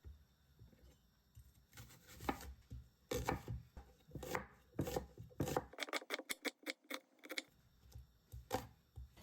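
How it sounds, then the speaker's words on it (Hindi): A knife chops onions on a board for aloo pakoras, cutting them not too fine. Crisp, close chops come in irregular bursts, including a quick rapid run of strokes partway through, with no voices. "अब प्याज की बारी आती है। प्याज को भी हमने बहुत ज़्यादा बारीक नहीं काटना।"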